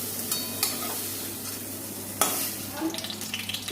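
Close-up sizzle of pointed gourd and onion frying in a pan, with a few sharp scrapes of a utensil stirring and a quicker run of clatters at the end.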